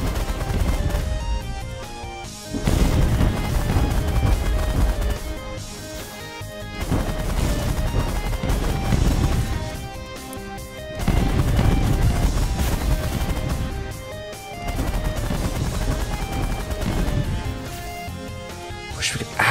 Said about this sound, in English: Miniguns, focus fire on Golems.